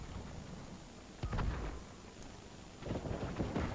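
Two deep booming blasts rumble out a second or so apart amid noisy background hiss, like heavy cannon fire.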